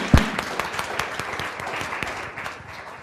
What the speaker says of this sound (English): so I want to applaud that